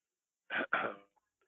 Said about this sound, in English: we can just hear me sniffle and sneeze and cough